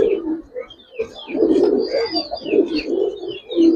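A pair of Kaldom Chuithal pigeons cooing close by, with repeated low throaty coos running in an uneven rhythm and faint higher chirps from other birds around them.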